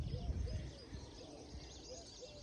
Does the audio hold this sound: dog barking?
no